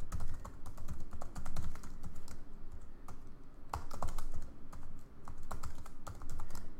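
Typing Java code on a computer keyboard, quick irregular close key clicks in bursts with short pauses, fairly quiet and without talk.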